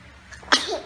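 A baby sneezes once, a short sharp burst close by, followed by a faint soft vocal sound.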